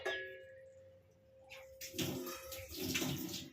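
Water pours out in a steady rushing stream while cooking fish roe fritters, starting after a quieter lead-in and swelling louder toward the end, with a faint clink near the start.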